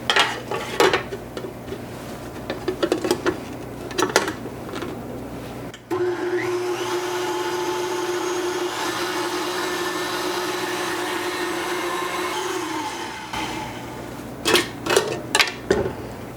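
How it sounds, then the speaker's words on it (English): An electric stand mixer with a stainless steel whisk attachment whips a feta mixture, running steadily and loudly for about seven seconds between clinks and knocks of dishes and utensils. "We're just going to whisk this until it gets to the texture that we want for our whipped feta appetizer."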